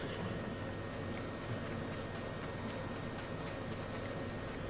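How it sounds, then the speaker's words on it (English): Horse hooves galloping in the samurai video game Ghost of Tsushima, a steady rapid clip-clop running continuously beneath a dense bed of game ambience and music, with no talking. "Let's get back on our horse."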